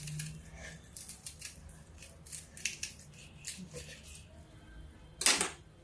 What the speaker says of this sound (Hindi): प्याज को हम यहां से काटेंगे